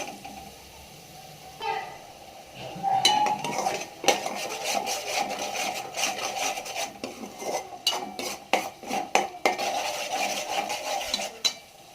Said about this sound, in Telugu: దీని పచ్చి వాసన మొత్తం పోయేంత వరకు దీన్ని ఇలాగా ఫ్రై చేస్తుందాం.